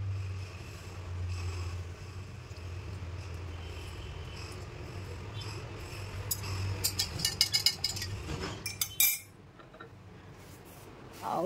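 Ice cubes clink into a glass of lemon sherbet with chia seeds, a quick burst of sharp, close taps near the end over a steady hum of crickets, followed by a sudden drop to near quiet.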